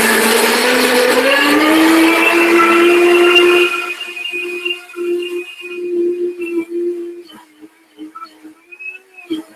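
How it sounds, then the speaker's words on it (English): A high-powered blender runs loud and steady, blending a nacho cheese sauce, then the motor whine drops and sputters in uneven bursts as it slows toward the end. "I'm not going to need to have the blender run for 3 minutes so you guys can see how these high-powered blenders work"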